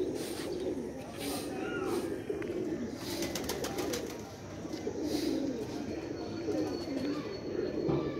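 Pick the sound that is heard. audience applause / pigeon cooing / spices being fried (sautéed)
pigeon cooing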